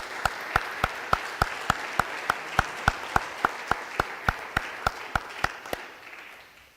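Church congregation clapping in unison, about twenty sharp, evenly spaced claps in a steady rhythm over a soft room murmur, fading at the end.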